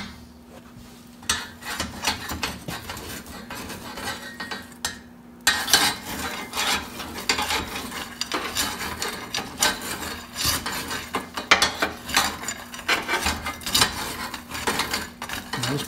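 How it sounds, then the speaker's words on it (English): Up close, a coal stove's shaker grate is worked back and forth to drop fine ash, making a steady metallic grinding and rasping scrape that runs almost continuously with brief pauses. "all I'm doing is just working it, getting that ash down to the bottom."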